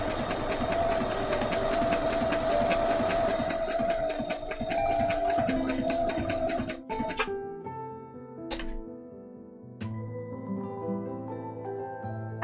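Sewing machine stitching a test on cosplay fabric, a rapid steady mechanical whirr for several seconds that stops, followed by a few short clicks and brief bursts of quieter running.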